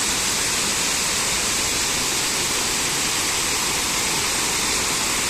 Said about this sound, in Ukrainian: І пташечка співає, і шум водички.